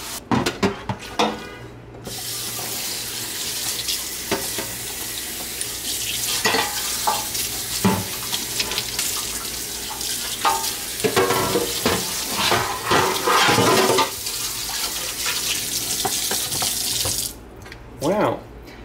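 Running tap water splashes steadily into a sink as a pan is scrubbed and rinsed, with clattering and sloshing throughout, close by, no talking.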